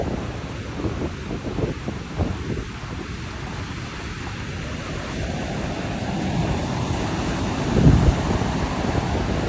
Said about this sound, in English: The waves are real angry today.